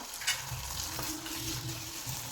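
Boiled green plantain pieces being stirred in a pan for a Kerala-style plantain and chana dal thoran: a steady close sizzle with soft scraping of the spoon, no voices.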